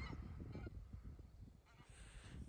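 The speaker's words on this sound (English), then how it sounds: "geese are flying past now." Geese honk repeatedly as they fly past over a hayfield, a loose chorus of calls, fairly faint and distant, with no talking.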